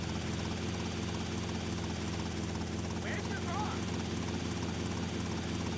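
A helicopter in GTA Vice City drones with a constant, loud rotor and engine roar throughout, with someone talking over it.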